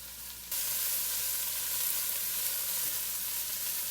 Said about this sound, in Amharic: ከዛ ሽንኩርት እዚህ ጋር እናቅለዋለን።